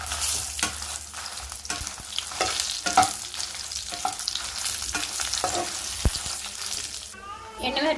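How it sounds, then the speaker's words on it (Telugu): Dried red chillies fry in a kadai with a crackling sizzle under repeated stirring scrapes and utensil knocks, ending in a louder burst of spitting oil. "ఇదే కడాయిలో మళ్ళీ ఎండుమిరపకాయలు కూడా ఫ్రై చేసుకుందాం"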